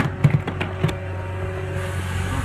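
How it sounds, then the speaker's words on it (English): A prop-shaft driven compressor generator mounted under a van runs with a steady, low mechanical hum, with a few faint clicks near the start. "I think the compressor is actually always running"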